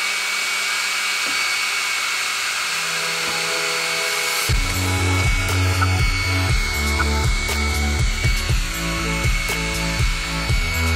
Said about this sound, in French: on va faire un petit essai de découpe sur du médium de 10 mm d'épaisseur.